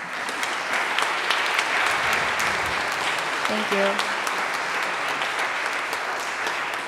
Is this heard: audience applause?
yes